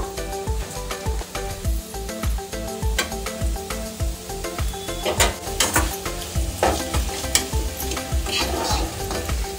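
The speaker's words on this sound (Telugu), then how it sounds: "చూడండి, ఇలా క్రిస్పీగా పొటాటో ఫ్రై రెడీ కావాలి." A batch of potato fry crisps in hot oil with a loud, continuous sizzle and crackle, broken by regular rhythmic scrapes and knocks of a spatula stirring the pan close by.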